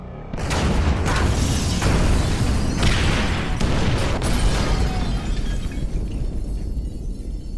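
Incendiary explosion in the video game GTA: a loud, close, roaring blast with crackling bursts and shattering debris that slowly dies away into a rumble, no voices.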